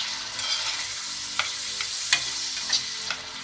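Basil ragù with peeled, chopped tomato is stirred in a pot as it cooks, giving a steady soft sizzle with a few light scraping clicks of the spoon, close and without talk.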